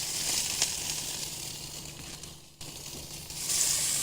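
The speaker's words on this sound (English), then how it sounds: "I don't know if you can hear them sizzling, getting on there" BBQ ribs sizzle on a grill, a steady, fairly quiet crackling hiss with a brief drop partway through before it swells again, heard alone without talking.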